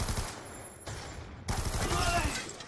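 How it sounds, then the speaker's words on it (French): Rapid automatic gunfire in the video game Black Ops II, dense bursts of shots in quick succession that swell louder partway through. "on me tire dessus."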